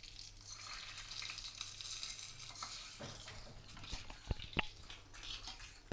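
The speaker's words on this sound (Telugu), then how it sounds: "అందులోకి కొద్దిగా పోపుని యాడ్ చేసుకుందాం." Hot tempering (popu) hitting the reserved dal water for tamarind-leaf dal gives a faint, low sizzle and bubbling hiss, with a few light clinks and stirring taps near the end.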